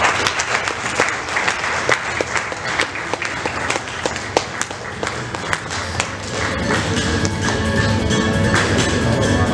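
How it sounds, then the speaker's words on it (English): Sustained audience applause at a student awards ceremony, dense clapping filling the room for the whole stretch, with scattered sharper claps standing out and the crowd growing slightly fuller toward the end. "A round of applause, please."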